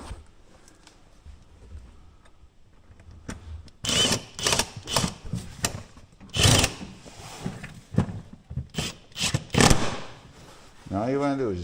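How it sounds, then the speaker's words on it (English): An impact driver tightens screws on the plastic cover of a 2012 Polaris Sportsman 500 HO ATV. After a quiet start, it fires in loud, close, rattling bursts. "You don't want to go over crazy if you're using an impact on them."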